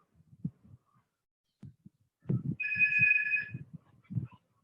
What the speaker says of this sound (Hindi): मेरा फोन बज रहा है ना?